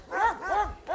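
A small dog gives three sharp, yappy barks in quick succession, close by and fairly loud, at a food-aid delivery in Almolonga, Guatemala.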